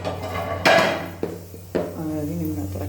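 Dishes and pots clatter in a kitchen sink during cleanup after making chutney, with a few sharp knocks and clinks between quieter handling, close by.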